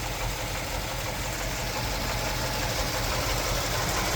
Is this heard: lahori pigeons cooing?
no